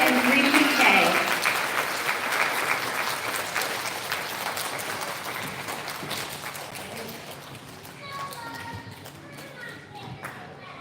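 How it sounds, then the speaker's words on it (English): Applause from an audience at an elementary school student recognition ceremony, dense clapping that fades gradually over several seconds, with children's voices and chatter mixed in. "Can we have a big round of applause for all of our UPK and 3PK?"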